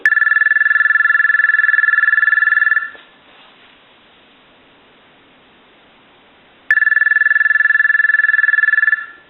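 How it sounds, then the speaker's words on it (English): A Thomas limited edition telephone under repair rings with a loud, steady electric bell trill for about three seconds, pauses in near silence, then rings again for another long burst. "I'll go ahead and ring the telephone."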